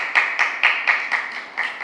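Audience clapping in unison during a Jain religious sermon, a steady rhythmic run of about eight crisp claps spaced evenly, with no talk over it.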